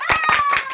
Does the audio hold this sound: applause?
yes